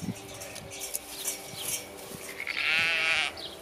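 A sheep in a pasture next to a summer vegetable garden gives one faint bleat near the end, over quiet outdoor background noise.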